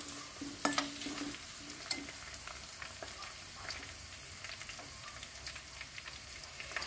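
Dried red chillies fry in oil while a spoon stirs them, giving a steady, soft sizzle with a few sharp scrapes and clicks near the start. The pickle is being made with nutmeg and prawns.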